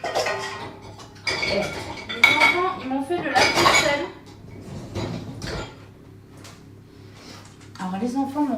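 Dishes and cutlery clink and clatter close by as a dishwasher is unloaded in a home kitchen, in irregular bursts with someone talking over them.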